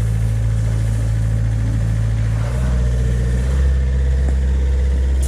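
A 2006 Takeuchi TB53FR excavator engine runs loud and close, a steady diesel drone whose pitch shifts as it is revved up.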